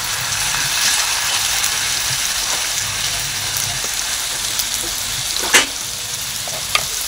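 Onions sautéing in a pan in a home kitchen, a steady close hiss and crackle of frying that runs without a break, with a couple of sharp utensil taps near the end.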